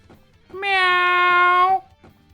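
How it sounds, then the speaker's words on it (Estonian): A cat meows in a video game, one sustained, steady-pitched call of about a second that rises clearly above faint background noise. "Ma kuulsid seda miaugumist või?"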